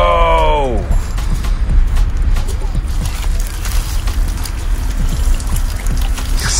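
Water pours and trickles steadily into a volcano kit for several seconds, close and fairly loud, while people talk over it.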